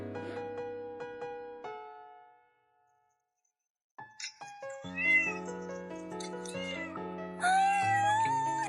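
Several cats meow in a busy household, a run of tonal cries followed by a short hush, then layered, overlapping meows building and rising near the end, close and fairly loud with no talking.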